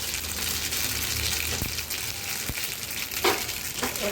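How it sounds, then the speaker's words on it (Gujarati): Mustard seeds and cumin hit hot oil in a pan for Gujarati dal dhokli, giving a continuous soft crackling sizzle with a couple of brief clicks and pops, no voices. "આપણું તેલ ગરમ થઈ ગયું છે એની અંદર આપણે રાઈને જીરું નાખશું"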